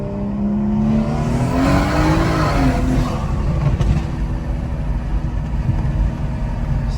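A 2019 BMW 440i engine accelerates hard nearby, its pitch rising and dipping through gear changes, a steady loud roar with no talking.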